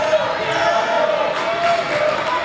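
A crowd at a men's high school basketball game between Sulphur Springs and Mount Pleasant keeps up a steady roar and cheer, filling the gym continuously with faint squeaks and bounces underneath.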